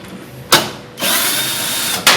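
A power tool fitted with an 8 mm socket removes screws from an Electrolux washing machine during a lower bearing replacement: short whirring bursts, then a steady one-second run, then another burst, all close and loud.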